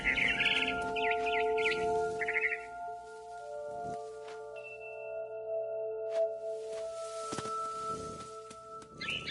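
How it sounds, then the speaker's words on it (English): Barn swallow chirps in a video game, quick high twittering bursts near the start and again later, set against sustained musical tones and a soft ambient bed. "Then I heard chirping outside my window. It was a barn swallow going back to her nest."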